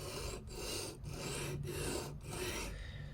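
A knife blade is drawn over a coarse grit abrasive on a Work Sharp Precision Adjust sharpener, giving about five rough, raspy strokes in a steady rhythm with brief gaps between them, close and alone.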